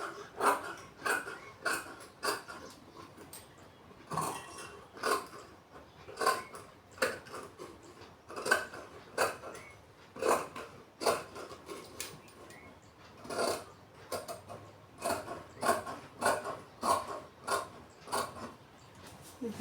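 Scissors cutting embroidered blouse fabric, a series of close, crisp snips in irregular bursts, some quick and clustered, others spaced apart, quiet and without talk.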